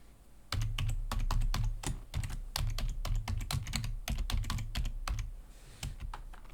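Rapid clicking of computer keyboard keys as details are entered into a registration form, close and crisp in short uneven bursts, no voices.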